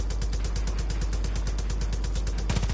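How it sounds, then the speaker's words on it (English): Rapid pistol fire in the video game Far Cry 5, a dense stream of evenly spaced loud shots with a short break and a fresh burst near the end, no talking. "Fire pistols."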